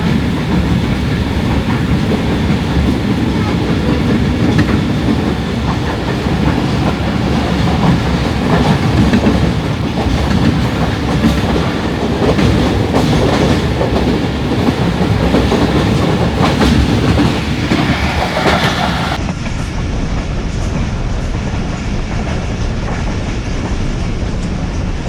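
A train rolling through Sarai Alamgir railway station in Pakistan, a loud, steady rumble with continuous clickety-clack of wheels over rail joints, sustained for the whole stretch without any voices.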